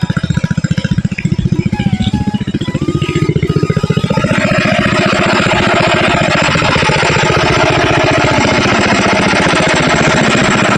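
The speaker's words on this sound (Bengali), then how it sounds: "চলো এখন সে মেশিনের সামনে যাই, মেশিন দেখো কোন জায়গায় লাগাইছি।" An irrigation pump engine runs loudly in a village vegetable field at night, with a heavy, rapid, regular thumping close by that grows into a dense, steady roar; nobody speaks.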